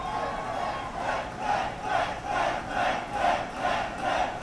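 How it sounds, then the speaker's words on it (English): A large crowd cheers and chants rhythmically at a political victory rally for a presidential primary candidate, a loud, continuous roar that swells in regular pulses about every half second. "All right, stop cheering."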